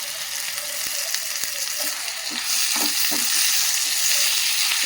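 Garlic cloves fry in hot oil in a pan while a bun dosa batter dish is made, giving a continuous bright sizzle that grows a little louder partway through, with a couple of faint clicks.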